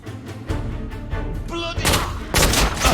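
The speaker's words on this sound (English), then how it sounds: "I'm taking suppressive fire!" Suppressive gunfire in the Victorian-era shooter The Order: 1886, a dense run of booming shots and thuds layered under a tense music score, growing heavier toward the end.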